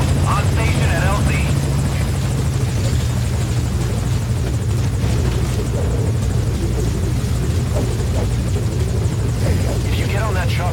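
A helicopter at a landing zone in Metal Gear Solid Ground Zeroes, a loud, steady rotor drone that holds throughout, with voices talking over it.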